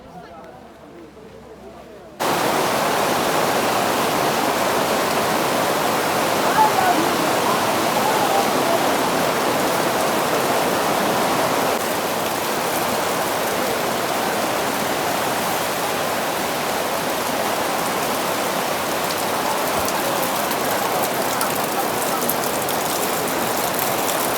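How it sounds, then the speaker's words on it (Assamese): Steady rain pours down in a dense, even hiss after a quiet opening moment, continuing without a break to the end. "বৰষুণ পৰিছে অলপ"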